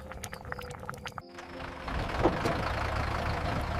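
A vehicle engine idles and rumbles at a roadside village dhaba in a cartoon story, starting with a low steady drone after a short pause and holding at moderate loudness.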